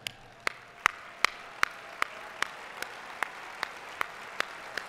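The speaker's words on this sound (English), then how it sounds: "That deserves some huge applause." A single person claps slowly and evenly at a live awards event, about a dozen crisp, distinct claps spaced roughly every 0.4 seconds, close and clear over a quiet room.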